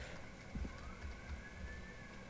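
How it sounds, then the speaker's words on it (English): A siren wails faintly outside, a thin rising and falling tone passing at a distance under low thumps and background noise. "Sorry if you could hear that siren."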